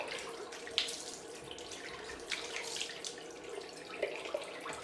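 A tap runs into a sink as alum is rinsed from freshly shaved skin, a soft steady splash with occasional louder drips and splatters, close and alone.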